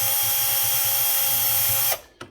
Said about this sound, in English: it goes a lot faster with a power drill like this because these screws are kind of long